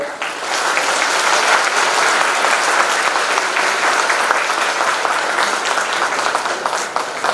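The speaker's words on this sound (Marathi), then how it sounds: "सर्वांनी टाळ्या वाजवून त्यांचं अभिवादन करायचं आहे." A large audience at a formal gathering honouring a visiting Thai Buddhist monk applauds for a birthday greeting, a dense, sustained wash of clapping that fills the hall without a break.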